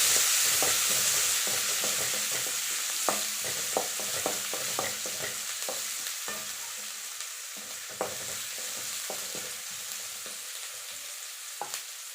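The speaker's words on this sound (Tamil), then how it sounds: "வெங்காயம் ஆட் பண்ணிட்டு கருவேப்பிலையும் சேர்த்துக்கிறோம் இதை நல்லா வ வதக்கிக்கிறோம்" Onions and curry leaves sautéing in a pan, with a steady sizzle that slowly fades while a spoon gives repeated close stirring scrapes and taps against the pan.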